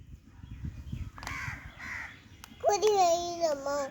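Harsh crow caws ring out loud and close in the second half, following a stretch of low background murmur and faint voices.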